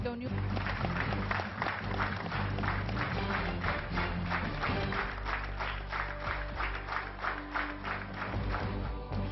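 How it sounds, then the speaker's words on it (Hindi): Steady applause from a crowd in a rocket launch control centre fills the whole stretch, dense and even, with a voice speaking over it. "वहां मौजूद लोगों ने तालियां बजाकर अपनी खुशी का इजहार किया।"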